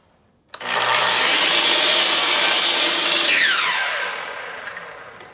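Power saw cutting crown moulding: a sharp start, then a loud, sustained whining cut for several seconds that winds down as the blade slows, with no talking.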